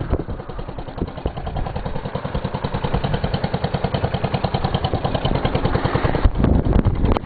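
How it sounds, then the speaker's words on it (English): A small petrol lawn mower engine, a Gravely, runs steadily nearby with a fast, even chugging rhythm, loud and continuous, no voices over it. "I'm ready to start mowing."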